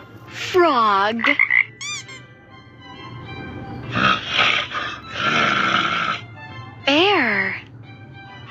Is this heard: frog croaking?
yes